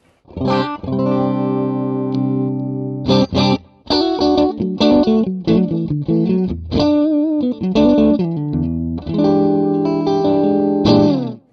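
An electric guitar plays sustained clean chords and short riffs through an amplifier with the fat switch engaged, ringing clearly with some reverb and brief pauses between phrases.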